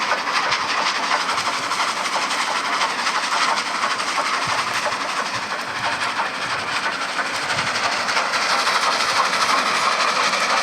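A train runs in the video game Dead Rails with a continuous rumbling, rattling engine and wheel noise, loud and steady throughout, with no talking.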